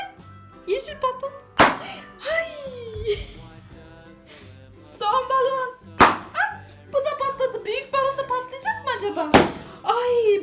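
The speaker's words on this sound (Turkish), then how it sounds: "Kırmızı balon da patladı." Three sharp, loud balloon pops burst out at spaced intervals amid excited high-pitched voices, chatter and laughter.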